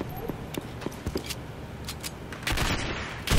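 Pistol gunfire in the video game Turning Point: Fall of Liberty: a scatter of sharp shots and distant popping bursts over battlefield din, growing louder and denser toward the end.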